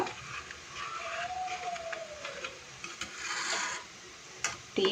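Pesaha milk is stirred in one direction in a pot, making soft, repeated scraping and rubbing strokes, faint and close, with a thin whistling tone in the background and a sharper knock near the end.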